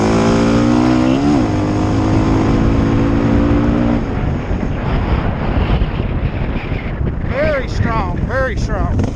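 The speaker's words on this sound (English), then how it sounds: "I'm gonna floor it right here and try to keep the front end down" A Honda 650L motorcycle accelerates at full throttle, its engine note climbing briefly in pitch before a heavy roar of wind rushing over the microphone swamps it.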